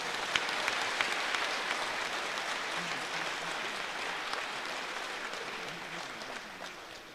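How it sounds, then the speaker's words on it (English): A round of applause at a company annual staff retreat and award ceremony, honoring a contributor; even, moderately distant crowd clapping that holds steady for several seconds before tapering slightly. "Can you give a big round of applause?"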